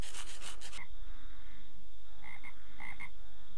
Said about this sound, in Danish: Og så kan man høre frøer.